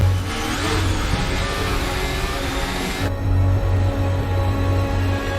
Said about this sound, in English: Sebastian Vettel realized Hamilton released the car and he has to suddenly accelerating